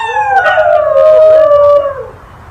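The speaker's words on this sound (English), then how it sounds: "Singing ensemble, the dogs do sound remarkable." Several New Guinea singing dogs howl together in overlapping, wavering tones that slide up and down, a loud eerie chorus that fades at the end.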